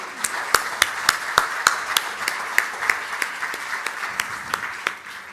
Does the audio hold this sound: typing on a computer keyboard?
no